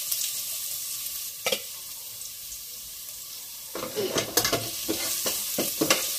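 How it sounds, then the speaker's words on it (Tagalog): Spatula stirring fish frying in a pan for sinigang na bangus sa miso: a steady oily sizzle under intermittent scraping and clinking strokes, close and fairly loud. "Haluin para di masunog."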